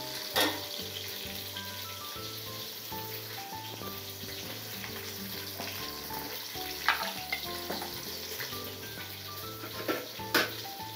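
Mutton liver pieces sizzle and fry in a pan while being cooked for biryani, a steady crackling hiss broken by a few sharp clinks and stirring knocks of a utensil against the pan.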